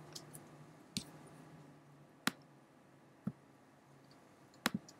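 Computer mouse clicks, five sharp, isolated clicks spaced about a second apart against a quiet room background.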